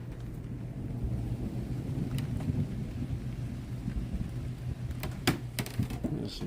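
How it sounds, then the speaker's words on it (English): Deep thunder rumbles through a thunderstorm, a low rolling roar with sharp crackling cracks near the end. "Wow, that is some thunder."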